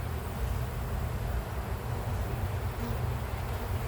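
Honey bees buzz steadily around an open beehive, a dense continuous hum that holds even and close throughout with no voices.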